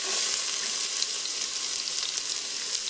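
Onion hitting hot oil with popped mustard seeds, a dense, even sizzle with tiny crackles flickering through it, close and steady without any talk.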